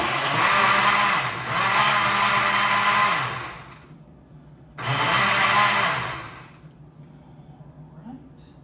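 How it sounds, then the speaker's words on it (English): A kitchen blender whirs loudly as it spins lemon and lime juice for lavender lemonade, running in two strong bursts with a pause between, the motor pitch shifting and then winding down. "let's go ahead and give that a quick spin on the blender"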